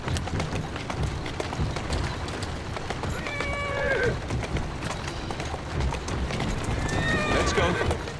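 A horse in Assassin's Creed Syndicate gallops with steady hoofbeats and whinnies a couple of times, while a person talks over it.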